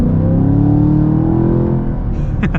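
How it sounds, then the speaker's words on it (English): A 2024 Chevrolet Camaro V8 muscle car revs hard under acceleration, its loud, rising engine roar easing before a quick series of sharp exhaust backfire pops near the end. "Ooh, you get the backfires out of the exhaust with this one."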